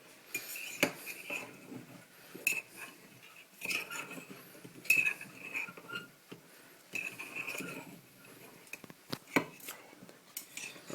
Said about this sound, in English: Have a knife around the edge of the bowl.